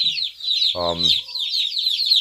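Crossbred meat chickens of the conventional type cluck in a short, close burst over constant high-pitched chirping from many birds.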